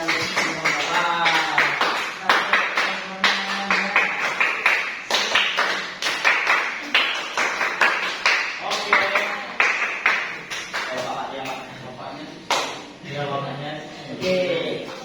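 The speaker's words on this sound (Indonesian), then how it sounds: "kita berikan tepuk tangan yang meriah untuk kelompok 2" A primary school class applauds a student group in a science lesson, giving brisk, uneven clapping bursts close by while a teacher's voice continues over the top.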